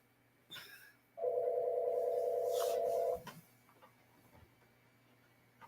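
A phone rings once, a single steady electronic tone lasting about two seconds in a quiet room, followed by faint small clicks and handling sounds.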